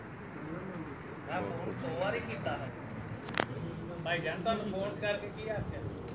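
Pakistani pigeons cooing on a rooftop loft in Jeddah, soft repeated throaty coos in bursts over a faint hum, with someone talking nearby throughout.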